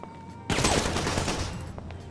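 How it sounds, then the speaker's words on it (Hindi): Gunfire in GTA 5: after a quiet start, a sudden loud, dense burst of rapid automatic shots that runs continuously for about a second, then thins into scattered cracks and echoes. "गोलियाँ मार रहा है गोलियाँ मार रहा है।"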